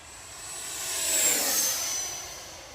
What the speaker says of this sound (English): We're gonna try to go for a speed pass down the runway here.